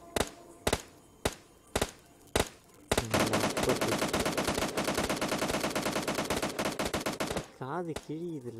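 In the video game PUBG, loud single gunshots crack at spaced intervals, then give way to a long, rapid burst of automatic fire, close and dominant, trailing off at the end.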